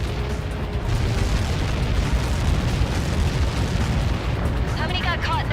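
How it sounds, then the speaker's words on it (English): A massive explosion in the combat flight game Ace Combat 7 Skies Unknown produces a continuous, loud, rumbling roar that fills the whole stretch. A brief voice breaks through near the end. "How many got caught in that explosion?"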